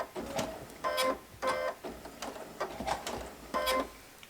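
A sewing machine stitches a quilt in short whirring runs with pauses between them, close and moderately loud, alone without talk.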